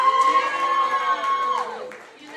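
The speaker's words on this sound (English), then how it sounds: "let's just go ahead and give that professor a round of applause" A crowd at a law school lecture lets out loud, sustained whooping cheers with some applause beneath. The voices hold for about a second and a half, then slide down and fade.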